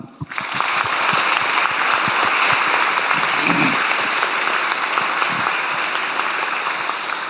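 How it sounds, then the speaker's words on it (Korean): Sustained audience applause greets young future scientists at a formal Korean science event, a dense, steady clapping that swells quickly and holds loud throughout with no talking over it. "박수로 환영합니다."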